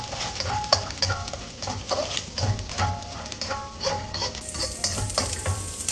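Garlic sautés in one to two tablespoons of plain vegetable oil, a close crackling sizzle broken by frequent spatula scrapes and taps against the pan as it is stirred.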